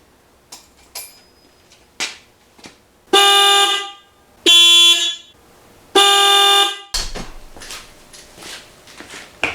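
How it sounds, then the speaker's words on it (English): Stock horn on a Kawasaki KLR650 motorcycle gives three loud, thin, high-pitched honks of about a second each, evenly spaced, with scattered clicks and handling noise before and after. "we'll give you a little demonstration of the wimpy little horn on the Kawasaki KLR650"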